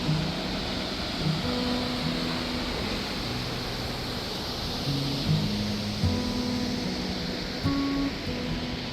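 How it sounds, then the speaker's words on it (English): Green and blue waterfalls in the Havasu Valley deep in the Grand Canyon pour in a steady, broad rushing roar, with faint tonal sounds drifting in and out over the water noise. "The green and blue waterfalls that flow down in the Havasu Valley, deep in the Grand Canyon."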